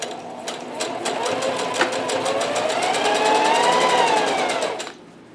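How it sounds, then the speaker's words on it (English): A sewing machine stitches a fabric mask in a fast, even run of needle clatter with a whirring motor, loud and close, steady for about five seconds before stopping. "Now I'm going to continue sewing on the 6-inch side"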